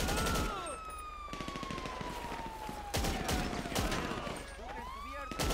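Gunfire rattles in bursts during a shootout in GTA 5 Online, loud and close, with a siren wailing in the background and a voice speaking over the action.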